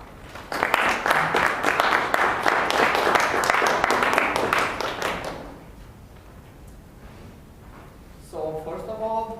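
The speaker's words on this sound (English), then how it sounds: "In your applause, Răzvan." An audience at a Toastmasters public speaking meeting claps in a steady burst of applause that fades out after several seconds, followed by a person beginning to speak.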